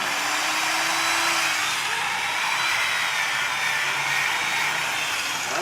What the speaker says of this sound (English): we will see if we get now an angle grinder to run